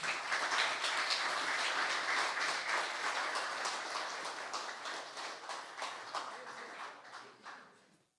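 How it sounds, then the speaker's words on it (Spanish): Sustained applause from a crowd at an award ceremony, dense clapping that holds steady and then fades out at the end. "Felicitaciones y un aplauso para ella."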